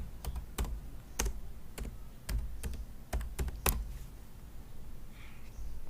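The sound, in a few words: typing on a computer keyboard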